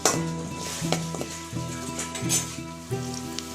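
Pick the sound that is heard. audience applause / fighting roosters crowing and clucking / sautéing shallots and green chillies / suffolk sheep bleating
sautéing shallots and green chillies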